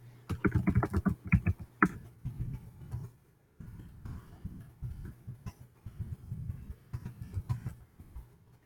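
Keys are tapped on a computer keyboard in quick bursts separated by short pauses, close and soft, with a cough or throat clearing near the start.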